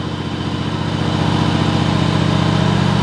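John Deere GX255 lawn tractor engine running with a slight sputter, a loud, steady mechanical drone with a rapid pulsing rhythm, close up and alone.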